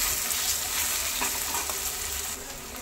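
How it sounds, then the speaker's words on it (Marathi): Onion and green masala paste sauté in a pan for banana blossom curry, giving a steady soft sizzle and frying hiss with faint stirring scrapes, close and continuous. "तेही आपण कांदा आणि हिरवं वाटण व्यवस्थित परतून घेऊ."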